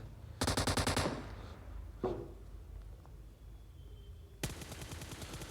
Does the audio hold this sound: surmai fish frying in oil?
no